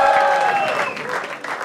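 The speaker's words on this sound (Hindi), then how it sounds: "दोस्तों तालियां बजती रहनी चाहिए" Audience applause for comedian Kanha Kamboj at a stand-up comedy show, a short burst of crowd clapping and cheering mixed with a sustained tonal sound, loud and close.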